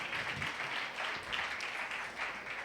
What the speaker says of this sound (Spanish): vamos a recibir con un fuerte, fuerte aplauso a la predicadora de ahora, Janet Carranco